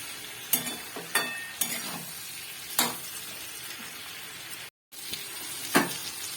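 Chili powder, sugar and spices fry in a pan with a steady sizzle, broken by several sharp scrapes of a spoon stirring against the metal, close and fairly loud, with one brief dropout of sound.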